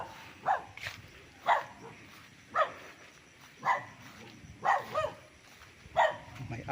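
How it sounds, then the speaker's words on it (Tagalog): A dog on a rural farm lot with a creek in Pagsanjan, Laguna barks in a steady series of single sharp barks, roughly one per second, at moderate distance over faint outdoor background. "May aso."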